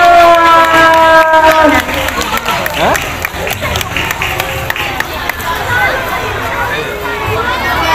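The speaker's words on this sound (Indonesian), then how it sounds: "Tepuk tangan yang meriah." Crowd at a primary school celebration in Surabaya cheering and clapping, with loud, lively applause and shouts that fade and surge again, mixed with crowd babble and some talking.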